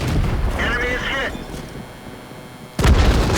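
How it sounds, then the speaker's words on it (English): In a tank combat video game, a burst of artillery hits a tank with a sudden loud blast near the end, after quieter game rumble and a brief voice-like tone. "Oh, taken out by artillery."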